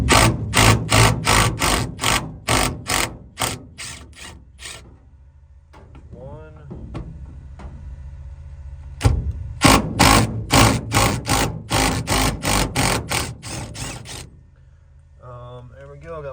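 A ratchet wrench unbolts T45 bolts from a Ford F100 bench seat in fast bursts of sharp, close clicking, with a pause and some handling noise before a second run of rapid ratcheting.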